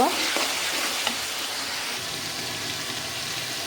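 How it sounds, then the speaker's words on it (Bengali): Water hits hot spiced oil in a pan for rohu fish curry, setting off a loud, close burst of sizzling that settles into a steady, hissing roar. "তো আমি ঝোলের জন্য এখন পানি দিয়ে দিব"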